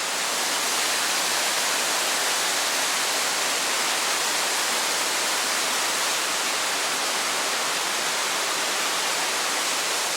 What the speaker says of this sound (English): And we're actually standing on top of the waterfall